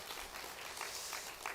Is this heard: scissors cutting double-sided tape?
no